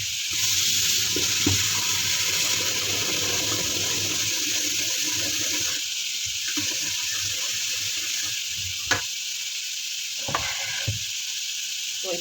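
Water poured into a hot pan of frying garlic sets off a loud, steady sizzling hiss that continues throughout, with a few sharp clinks of a utensil near the end.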